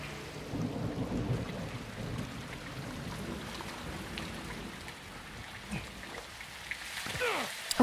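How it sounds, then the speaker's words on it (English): Heavy rain pours steadily in a Call of Duty: Modern Warfare 2 (2022) campaign mission, with low thunder rumbling underneath. A sharp, brief crack sounds near the end, and no one speaks. "It's raining fucking hard."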